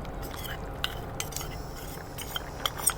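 A spoon stirs gram flour and rice mixture into a bubbling potato-free poori masala, giving soft scraping and a few light clinks against the pot over a quiet, steady simmer.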